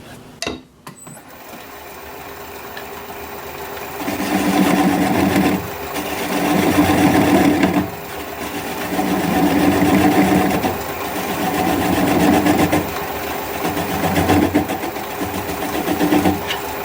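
Wood lathe spinning a Gravenstein apple wood bowl blank, a steady whirring hum with a gouge cutting in repeated surging passes of rough scraping, close by and without talk.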